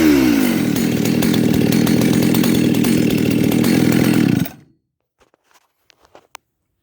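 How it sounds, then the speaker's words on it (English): A Husqvarna 272 chainsaw roars loudly at full throttle, its pitch settling as it runs, then cuts off abruptly, leaving a few faint clicks and knocks in near silence. "Let me put it on the saw and see if I can get it fired up."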